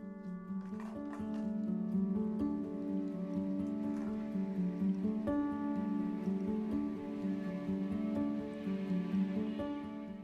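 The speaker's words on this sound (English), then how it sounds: "it has just started to downpour. Absolutely downpour." Heavy rain pours down in an English market town during a sudden spring downpour, a steady, dense hiss that holds evenly for the whole stretch with no talk over it.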